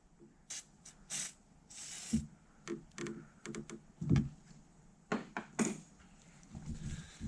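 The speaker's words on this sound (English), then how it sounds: "We'll take some lubricant and we'll spray the hose." PB Blaster lubricant sprayed onto a car hose on an Acura Integra fills the space with several short hissing bursts of varying length, mixed with clicks and knocks of handling tools, fairly quiet and close.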